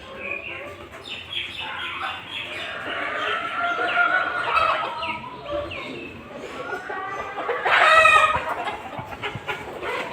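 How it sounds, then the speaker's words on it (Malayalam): Chickens on a small home poultry farm cluck and chatter continuously nearby, with native hens and roosters including black chickens; a rooster crows loudly toward the end amid the flock's calls. "ഇതെൻ്റെ കോഴികൾ, കോഴി ഫാം"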